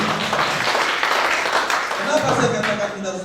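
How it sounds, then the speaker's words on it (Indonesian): A church congregation breaks into applause, a dense, close, continuous patter of many hands clapping, with a voice speaking over it. "Tepuk tangan yang terbaik buat kita."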